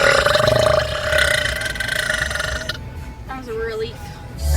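A long, loud, rasping burp from a woman right after a 12-hour shift driving a semi-truck, sustained close for nearly three seconds, then fading into quieter talk.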